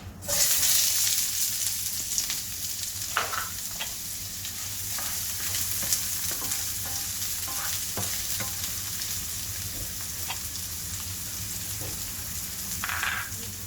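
Onion fries in a pan for chilli chapati, a soft continuous sizzle broken by occasional stirring scrapes and clicks, with no voices.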